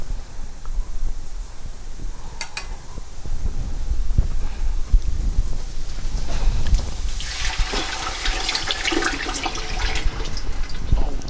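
Water is poured from a half-filled can into coconut milk for a Thai peanut satay sauce, a soft splashing trickle that swells into a brighter, steady pour toward the end, heard close with no talk.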